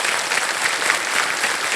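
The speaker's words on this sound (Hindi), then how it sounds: "जितने लोग यहाँ आज ताली बजा रहे हैं" A TV quiz show studio audience bursts into sustained, loud applause, a dense wash of clapping filling the room evenly from start to finish.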